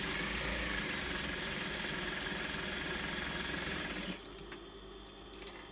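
Sewing machine stitching a cotton washable face mask, a fast, steady mechanical whirr and needle chatter that runs for about four seconds, then stops, leaving quiet room noise and a small click.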